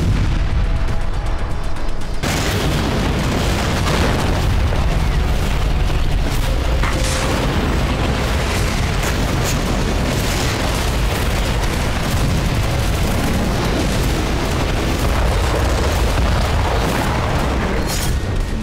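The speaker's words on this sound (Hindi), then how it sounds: "दक्षिणी लेबनान में हिजबुल्लाह के वेपन डिपो और कमांड सेंटर को बारूद बरसाकर बर्बाद किया गया है" Heavy bombardment strikes on Hezbollah weapon depots and command centres in southern Lebanon, a dense continuous barrage of loud booming blasts and gunfire-like bursts that rolls on steadily with no voices.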